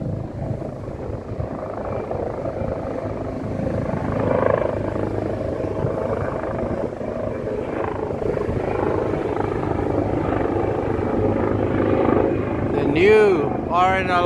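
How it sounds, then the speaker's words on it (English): New Coast Guard helicopter flying over a stormy beach, its rotor roar steady and fairly near for the whole stretch, mixed with wind, and a voice talking near the end. "New RNLI choppers, not RNLI, the new Coast Guard choppers."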